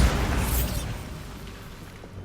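A Bombarda blasting spell goes off in Hogwarts Legacy as one loud, close explosion with a deep, rumbling boom that slowly fades over a couple of seconds, no voices over it.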